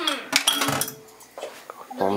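A utensil stirring Slovak sour soup with chicken breast and broth in a pot, giving quick metallic clinks and scrapes against the pot's sides, close and fairly loud, with a brief bit of background voice.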